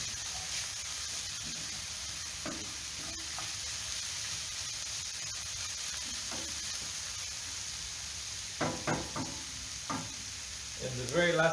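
Oyster mushrooms and herbs sizzling softly in a pan with a constant faint hiss, broken by a few scraping stirs near the end, while someone speaks briefly.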